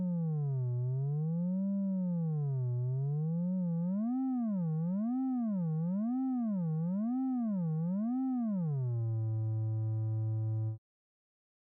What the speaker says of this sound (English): The pitch goes up as the gripper closes